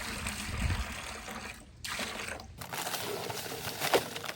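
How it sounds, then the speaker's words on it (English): Water pours from a cleaning bucket into a mixing bucket for stone-wall mortar, a close trickling splash in two short bursts separated by a brief pause, fairly quiet and without talk. "Putting some of that water from the cleaning bucket."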